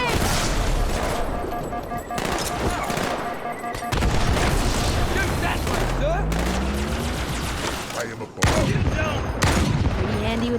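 Sustained rifle gunfire in Halo 2, dense overlapping bursts and booming impacts of a firefight, loud and close, with battle voices mixed in.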